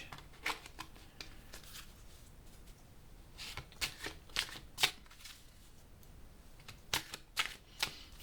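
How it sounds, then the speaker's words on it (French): Tarot cards being shuffled and drawn for a reading, heard as soft papery riffles and flicks in scattered bursts, close by and fairly quiet, with no talking. "on va essayer de tirer une dernière carte pour en savoir un peu plus"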